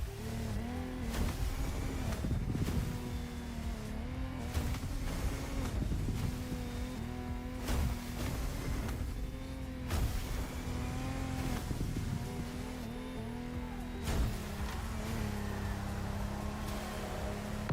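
Racing boat engines in The Crew Motorfest video game, a dense sustained roar with shifting pitch sweeps and repeated revving surges, loud and continuous for the whole stretch with no talk.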